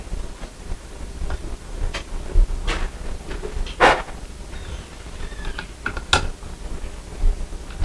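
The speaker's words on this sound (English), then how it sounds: "And then we screw these screws down until they're tight." A screwdriver drives screws into a light fixture bracket, giving scattered close ratcheting clicks and brief scraping turns with short pauses between them.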